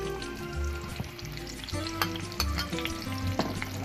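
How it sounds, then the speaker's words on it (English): Onions sizzling and crackling steadily in hot oil for hotdog toppings, with bursts of spattering and occasional stirring clatter, close and moderately loud, no voices. "my oil is getting hot, so I'm gonna put my onions"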